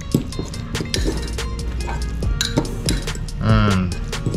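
Ingredients for a parsley and olive oil mix stirred in a bowl, giving repeated clinks and scrapes of a utensil against the dish at close range, with a brief louder rattle near the end.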